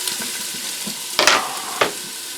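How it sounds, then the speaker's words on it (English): Steady sizzling of chopped onions frying in hot oil in an Instant Pot pressure cooker, with a couple of louder bursts as something stirs or drops in. "already sizzling."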